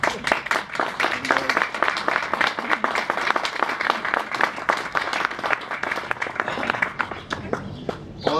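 Applause from a blues festival audience at an exhibition opening in Eutin, sustained dense clapping throughout, fairly close and steady, easing slightly near the end.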